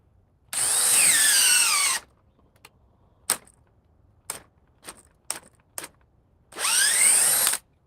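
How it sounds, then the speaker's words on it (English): A DeWalt 8 amp battery power pack drives a forge blower in two loud bursts of whining motor, each a second or two long, with scattered clicks and knocks between them. "Let's see if I can even run the forge."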